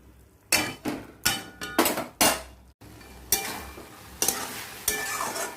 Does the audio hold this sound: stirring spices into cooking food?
yes